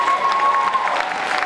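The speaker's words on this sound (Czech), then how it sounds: "My děkujeme, pojďme zatleskat" An audience at a gala concert of a dance festival in Prague claps steadily in dense, fairly loud applause throughout, with a faint tone under it at first.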